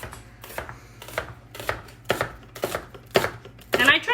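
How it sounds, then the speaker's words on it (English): A knife slices mushrooms thinly on a board, about eight crisp, evenly spaced cuts close up, with no one talking. "I'm just going to make thin little slices."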